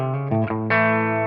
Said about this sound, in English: You can hear the reverb there.